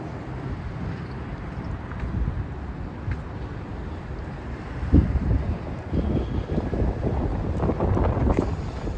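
Wind buffets the microphone during a city walk near Queen's Park, making a low, gusty rumble that grows stronger and rougher in the second half.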